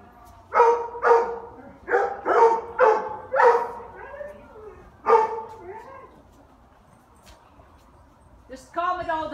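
Dog barks loudly in a rapid run of about seven close yips and woofs, then falls quiet before a whining, voice-like sound; a trainer is coaching calm during a pulling exercise.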